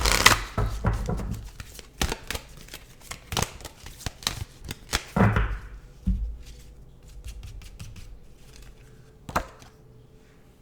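Sacred Spirit reading cards are shuffled in fast crisp riffles and sharp snaps for about five seconds. Lighter scattered flicks and taps follow, close and with no talking.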